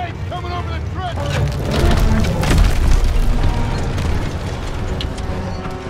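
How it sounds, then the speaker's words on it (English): A friendly tank rolling over a trench in the World War II shooter COD WWII, a heavy rumbling mechanical roar with splintering wood and booming impacts, loud and continuous beneath battlefield shouting. "Friendly tank coming over the trench!"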